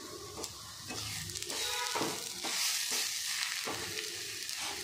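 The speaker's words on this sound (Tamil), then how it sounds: "சர்க்கரை தான் போடுறேன். போட்டு நல்லா கிண்டி விட்டுக்கலாம்" Grated beetroot cooking with sugar in a pan for laddu, stirred briskly: a close, bright sizzle broken by several rough scraping sweeps of the spoon, with no talk.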